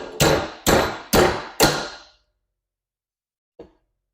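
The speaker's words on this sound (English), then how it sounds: "we're going to hammer on this all thread with a crescent wrench" A crescent wrench, used as a hammer, strikes a threaded all-thread rod in four loud, evenly spaced metallic blows close up, followed by silence and one small faint tap.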